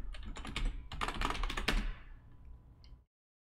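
Computer keyboard keys typed in a quick, uneven burst while entering a password during a Windows Server 2019 Core setup, close and clear, ending abruptly into silence after about three seconds.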